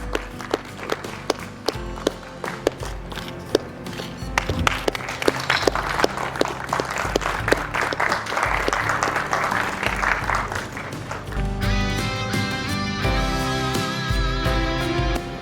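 An audience at an awards ceremony in Jaipur claps to welcome a guest, with scattered claps building into sustained applause over music, and no talk.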